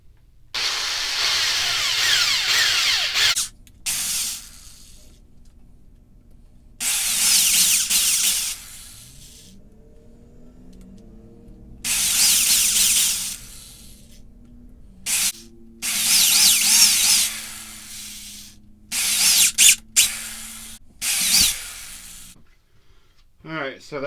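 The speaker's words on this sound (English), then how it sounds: "So by drilling this out first, it's a great way to get started on that." A power drill whines in repeated long bursts, drilling out metal on a Jaguar car, starting and stopping every few seconds with quiet gaps between runs.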